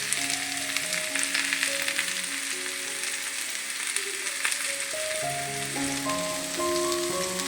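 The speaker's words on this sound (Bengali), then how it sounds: "সবজিটা একটু ভাজা করে নিচ্ছি কাঁচি শাকের কুমড়োর সাথে" Vegetables frying with pumpkin in a pan give a steady, close sizzle, with background music playing underneath.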